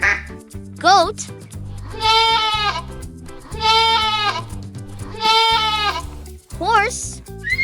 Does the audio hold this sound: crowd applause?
no